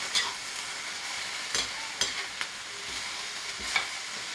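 Vegetables stir-frying in a wok over a high flame, a soft steady sizzle broken by a few sharp spatula scrapes and clacks, fairly quiet and close.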